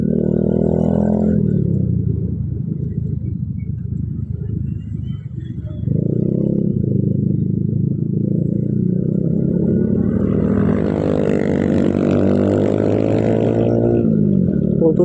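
A hot 147cc bored-up motorcycle engine idles loudly with a deep, throaty exhaust rumble, then revs up briefly before settling back, with no talking.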